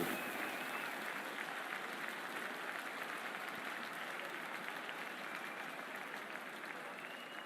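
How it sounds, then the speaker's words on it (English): A steady wash of applause and crowd noise fills a stadium at a cricket match in Cricket 24, dense and continuous at an even level throughout, with a faint voice mixed underneath. "We're about to get underway and already the crowd is up and about."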